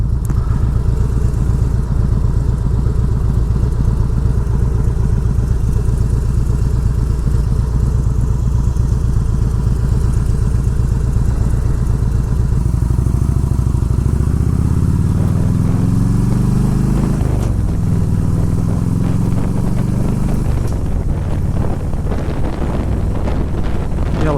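A 2004 Harley-Davidson Road King being ridden, its loud low engine rumble running steadily under heavy wind buffeting, with the pitch rising and falling through gear changes toward the end.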